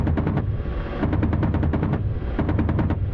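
Helicopter cannon fire in the DCS combat flight simulator, rapid bursts of heavy automatic shots in three or four clusters with short pauses, loud and close over a continuous rotor and engine drone.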